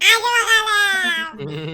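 A person's voice imitates a cat meowing, with a drawn-out, wavering, high-pitched mew, then a brief lower vocal sound at the end; the sound is close and fairly loud.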